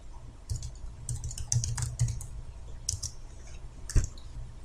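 Typing Korean text on a computer keyboard, a close series of light irregular key clicks in quick bursts with a short pause and a final firmer tap.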